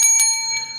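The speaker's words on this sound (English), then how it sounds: "I got the bell." A bell rung at a photo booth event: several bright metallic strikes with steady ringing tones that linger and fade, close and fairly loud, with no talk.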